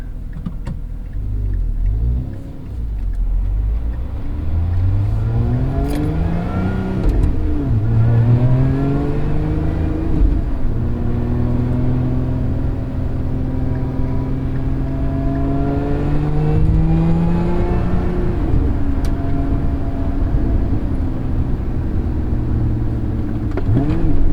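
A Lotus Emira sports car engine revs steadily and loudly while double clutching, pitch rising and falling through repeated throttle blips and over-revving, with a deep rumble underneath and no talking.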